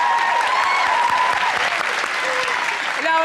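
Studio audience at a televised interview breaks into sustained, dense applause that fills the room for several seconds, with talk faintly underneath.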